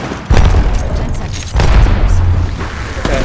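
Two heavy grenade blasts in the Apex Legends battle royale shooter, each a loud, sudden boom with a rumbling tail, the second following about a second after the first.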